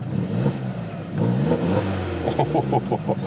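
An Opel Corsa OPC hot hatch engine revs close by with a throaty stock exhaust and no catalytic converter, rising and falling, and a burbling, pulsing note at the end.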